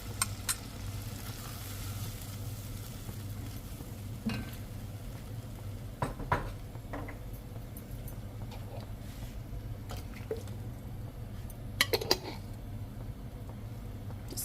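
Two spoons of tomato sauce hit a hot cooking pot, followed by a steady soft sizzle with occasional spoon clinks and stirring scrapes against the pan.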